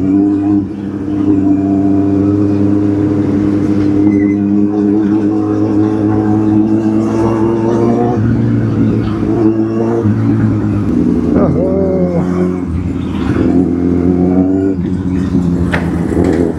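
Kawasaki Z800 motorcycle engine revving and droning on a ride alongside another Z800, a loud sustained rumble with rising and falling revs amid wind noise.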